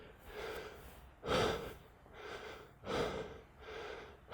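Heavy, labored breathing after a high-intensity bodyweight interval workout, close to the mic, with deep rhythmic gasps about every one and a half seconds and softer breaths in between, no talking.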